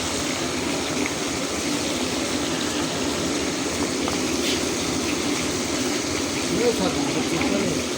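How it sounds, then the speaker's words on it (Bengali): Hilsa fish frying in foaming oil in a kitchen, a steady broadband sizzle running continuously throughout, with voices talking over it. "আমাদের মাছ ভাজা হচ্ছে।"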